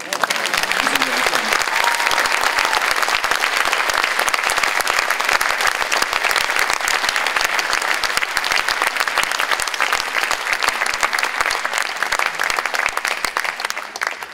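An audience at a civic ceremony with a town mayor present applauds steadily and loudly throughout, a dense continuous clapping with no break.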